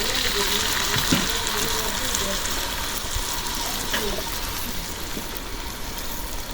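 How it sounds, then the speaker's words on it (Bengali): Water poured into a hot pan of fried onion, green chilli and garlic to cook down spices, a steady gushing sizzle that holds level throughout, close by. "মশলা কষানোর জন্য পানি দিয়ে"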